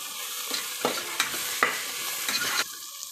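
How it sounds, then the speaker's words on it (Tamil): Coriander, mint and six green chilies sauté for mutton biryani, a steady hot sizzle punctuated by about half a dozen quick stirring scrapes, close up and with no one speaking. "இதை நல்லா நம்ம வதக்கி விட்டுறலாம். இப்போ கொத்தமல்லியும் புதினாவும் நல்லா வதங்கிடுச்சு."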